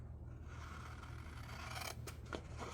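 Scissors snipping through paper ephemera: a few quiet, short crisp cuts near the end, over a faint steady background hum.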